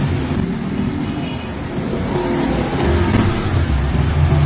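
A replacement spin motor in a Haier semi-automatic washing machine runs after repair, giving a loud, steady hum that rises slightly in level toward the end.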